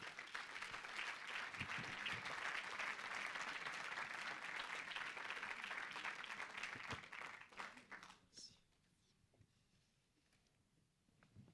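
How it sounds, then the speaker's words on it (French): An audience applauds to welcome an author at a literary prize reading event, a steady dense wash of clapping that fades out after several seconds into quiet room tone. "Merci d'accueillir Étienne Barillier et de l'applaudir bien fort."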